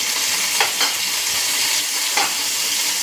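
Chopped garlic and a dried red chilli fry in oil and ghee, a steady close sizzle with a few brief stirring scrapes and no talking.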